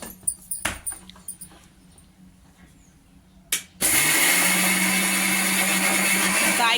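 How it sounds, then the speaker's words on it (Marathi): A mixer grinder starts up and runs steadily at full loudness, grinding chutney of green chillies, coriander, peanuts and dal with very little water in a small jar, after a few quiet knocks and clatters. "आता आई वाटते वाटण्याची प्रोसेस दाखवते"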